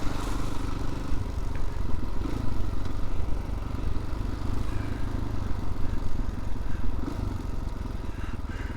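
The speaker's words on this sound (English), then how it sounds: "That's the worn out clutch plates." A motorcycle engine runs steadily up close with a constant low rumble and a metallic rattling clatter from worn clutch plates layered over it.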